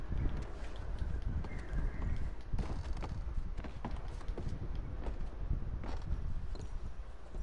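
Horse hooves clip-clop steadily over a continuous outdoor ambience in the video game Red Dead Redemption II, with faint bird calls in the background.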